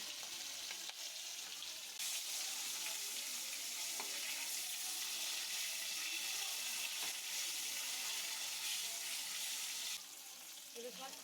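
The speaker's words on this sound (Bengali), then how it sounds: "মাছগুলি মোটামুটি ভাজা হয়ে গেছে আর বেশি ভাজবো না" Hilsa fish frying in a little oil in a village kitchen, a loud, continuous hiss of sizzling oil throughout, close up, with a brief dip near the end.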